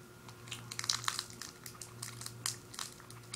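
Quick, irregular sticky crunching and squishing bursts of fast chewing on Juicy Drop taffy candy, close and fairly quiet, with no talking.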